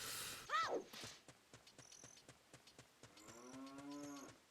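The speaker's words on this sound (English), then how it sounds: "Moo! Another cow." Cow mooing in the video game Ocarina of Time, a loud drawn-out moo following a short sharp call, over steady rhythmic game footsteps and clicks.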